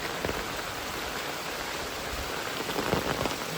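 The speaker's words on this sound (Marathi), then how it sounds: "पाऊस जोरात आलाय" Heavy rain pours steadily at night in the Konkan region, a dense, unbroken wash of drops with a few louder close splatters and no voices.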